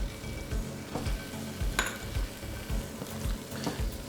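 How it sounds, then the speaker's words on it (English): Light brown sugar being stirred into frying bacon, garlic and onions, a crackling sizzle under rhythmic scraping strokes of a spoon against the pan, close and steady. "I'll mix that in really good."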